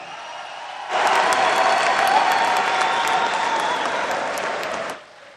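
Applause for coach Romain Folz at a Yanga general meeting, a large crowd clapping loudly and steadily for about four seconds before stopping quickly.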